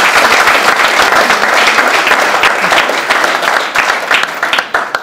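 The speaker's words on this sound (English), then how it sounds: "I would like you to give yourselves a warm round of applause" A room full of people breaks into a warm, dense round of applause at a resilience talk, loud and continuous clapping that thins slightly toward the end.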